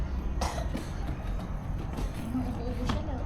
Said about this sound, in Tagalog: Ubo-ubo siya na.